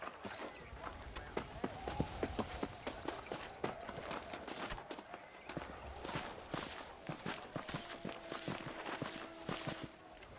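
A horse's hooves clip-clop at a steady walking rhythm in Red Dead Redemption, close and continuous under faint background ambience, with a voice speaking briefly over the hoofbeats.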